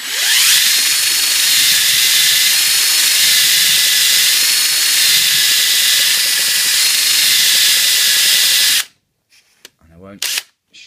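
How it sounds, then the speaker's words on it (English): An electric drill whines loud and continuous up close, lapping valves in a Perkins 103-15 diesel engine, then cuts off abruptly, leaving a few faint knocks. "get your electric drill and just gently close the chuck up like so"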